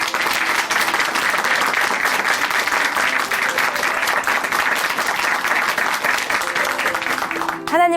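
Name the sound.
church congregation applauding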